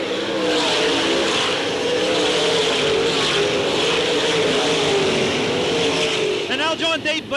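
Sprint cars roar around Port Royal Speedway in 1986 as Dave Blaney tries to pass Doug Wolfgang, a dense, continuous engine drone that stays loud throughout with a commentator talking over it.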